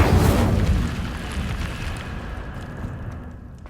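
Incendio fire spell cast in Hogwarts Legacy, a loud roaring whoosh of flame that bursts at once and then fades into a sustained rumbling crackle, with no talking.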